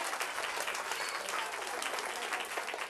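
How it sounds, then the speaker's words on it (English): An audience claps loudly for Amber at a live local event, a dense continuous burst of applause holding steady throughout with a faint murmur of the crowd. "Clap loud for Amber."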